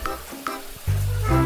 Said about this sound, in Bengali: এবার ভালো করে ওটা আমি নেড়ে চেড়ে ভেজে নিচ্ছি তেলের মধ্যে।